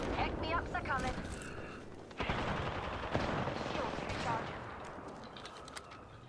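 Gunfire in the shooter game CS:GO crackles in bursts through the first half and again after a short pause, with a voice talking over parts of it.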